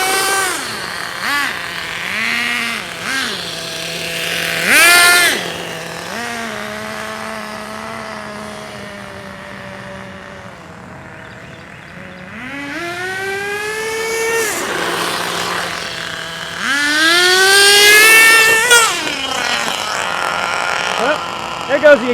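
Nitro-powered RC car engine that has lost its exhaust, running loud and high-pitched with repeated revving rises and falls, close by, with people talking over it at times.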